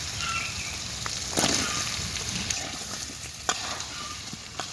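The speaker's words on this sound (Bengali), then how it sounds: "এখন পেঁপে দিয়ে আবারও কবুতরের গোস্ত কষাইলাম।" Pigeon meat and papaya stir-fried in a pan give a steady, close sizzle, with a few sharp spatula scrapes and clinks against the pan.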